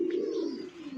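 Pigeons kept for sale give a low, soft cooing close by, one continuous throaty murmur with a few faint chirps above it and no talking.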